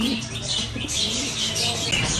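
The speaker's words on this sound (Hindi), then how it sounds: "ये भी फैंसी कबूतर है" Fancy pigeons coo softly in a loft, with low murmuring calls under steady broadband background noise.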